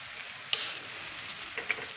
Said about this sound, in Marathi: आता हा किस आपल्याला छान तुपामध्ये परतून घ्यायचा आहे.